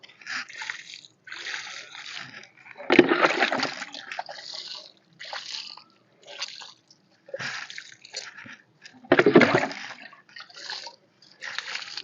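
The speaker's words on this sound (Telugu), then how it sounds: "ఇప్పుడు ఈ సపోటా చెట్టు గిట్ట నీళ్ళు పోసుకుందాం" Water poured onto the base of a sapota (chikoo) tree in separate bursts, splashing and gurgling into soil between short pauses.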